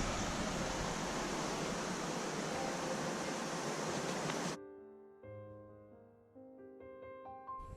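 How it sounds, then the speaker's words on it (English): A waterfall at a castle school estate gives a steady, broad rushing roar for several seconds, then cuts off into quieter tonal background. "And there's the waterfall at the end there"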